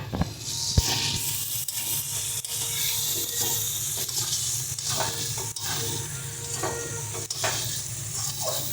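Chopped tomato hits a pan of frying spice paste releasing oil, for a Bengali jackfruit and prawn curry, giving a continuous loud sizzle and hiss with occasional stirring scrapes.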